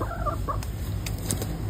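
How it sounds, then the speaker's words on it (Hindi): Hens clucking noisily nearby in a short burst of loud, agitated calls, with several quick clucks over steady background noise. "अभी जी मैं अपनी मुर्गियां देख के आती हूँ क्या कर रही हैं, शोर कर रही हैं"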